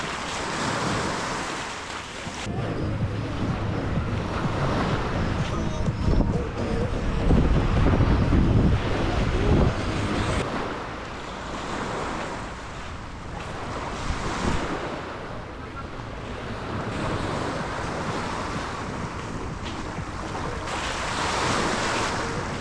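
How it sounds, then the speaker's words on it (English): Sea waves crash against rocky coastline at Varkiza on the Greek coast, surging and receding in repeated loud swells with heavy wind buffeting the microphone and no talking. "Sometimes, the waves crash loudly into the rocks, and the coastline turns into a natural concert"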